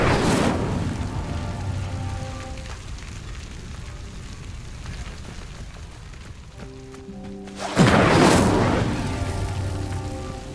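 The Incendio fire spell cast in the video game Hogwarts Legacy, heard as a whooshing burst that fades into crackling flames under a tonal music bed, then a second loud burst near the end.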